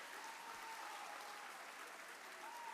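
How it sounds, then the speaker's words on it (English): Faint, steady applause from an audience honoring athletes, coaches and teams at an awards night, a continuous wash of distant clapping throughout. "How about a round of applause for these marvelous groups of athletes,"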